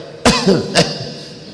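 A voice imitates a cough: two short, harsh coughs close up, with a brief throaty sound between them.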